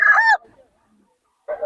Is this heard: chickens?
yes